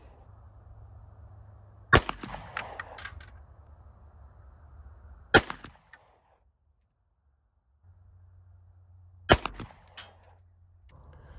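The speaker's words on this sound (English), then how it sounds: "I'm going to use the CZ75 with just on the chronograph right now." Three sharp, loud pistol shots from a CZ75 9mm fired over a chronograph during load testing, spaced a few seconds apart, each a crisp crack with a short ringing tail over low background hum.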